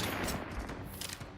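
Rapid gunfire from The Outer Worlds 2 video game, a loud, dense burst of overlapping shots that runs without a break, with no talking.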